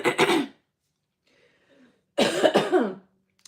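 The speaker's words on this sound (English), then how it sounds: "The cough still be getting me sometimes." Two harsh, close throat-clearing coughs, separated by a short quiet pause with faint background noise.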